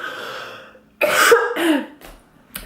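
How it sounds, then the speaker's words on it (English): A woman with a lingering cough lets out two harsh, close coughs in quick succession, followed by a short throat-clearing burst, after a brief soft breath. "I need to cough"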